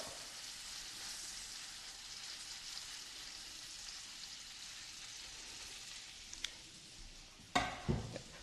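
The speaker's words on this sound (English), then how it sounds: "But I got to sear this baby up." Beef sears in a hot pan for a personal-sized beef Wellington, giving a quiet, continuous sizzle. A couple of sharp knocks and clunks come near the end.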